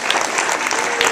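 Audience applause fills an awards ceremony hall for a group of students, a dense steady wash of many hands clapping at close range throughout, with no pause.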